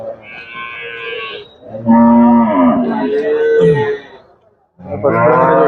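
Several loud, drawn-out cow moos sound close by, one after another with a brief pause before the last; dairy cows at a cattle sale.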